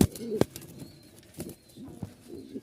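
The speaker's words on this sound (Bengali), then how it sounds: "খুব ভালো মানের একটা কবুতর" Rajshahi Giribaj pigeons in a loft, with brief bursts of wing flapping and soft cooing, close and intermittent.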